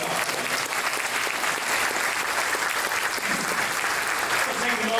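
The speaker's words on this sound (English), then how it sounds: "Let's give him another round of applause." A dinner crowd at a chamber of commerce awards banquet gives a loud, dense round of applause that stays steady throughout.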